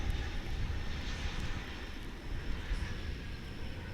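Airplanes arriving on a runway at DFW airport, a steady broad jet engine roar with low rumble, continuous and fairly distant, with no talking.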